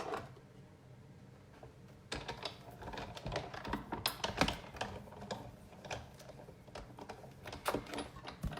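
A Big Shot die-cutting machine cranks a paper heart through its rollers, producing a run of close, rapid clicking and ratcheting bursts that grow busier after a quiet start, with no voices.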